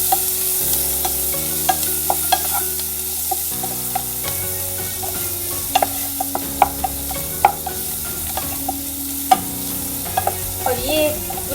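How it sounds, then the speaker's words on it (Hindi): A spoon stirs chopped vegetables and Maggi masala in a sizzling pan, with scattered scraping clinks over steady frying and soft background music. "चलिए इसको अच्छे से मिक्स कर देते हैं।"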